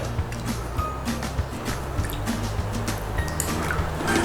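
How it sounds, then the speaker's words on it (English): About three tablespoons of water are poured into a sauce of oyster sauce for a stir-fried pork liver and pepper dish, giving close, continuous trickling and dripping over low background hum. "And then we want about 3 tablespoons of water."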